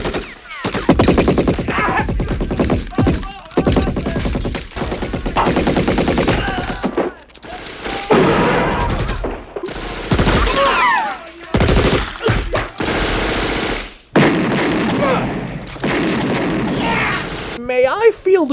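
Machine gun fire from the film Commando, loud and near in long rattling bursts mixed with explosions and gunshots, broken by short gaps, with voices heard among the action.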